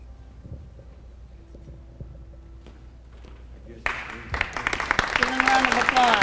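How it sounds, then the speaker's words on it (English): Audience applause at a high school JROTC awards and change of command ceremony, starting abruptly after a quiet hum and building into steady, loud clapping from a crowd. "Give them a round of applause."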